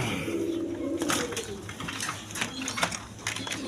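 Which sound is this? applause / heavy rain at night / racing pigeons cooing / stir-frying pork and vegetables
racing pigeons cooing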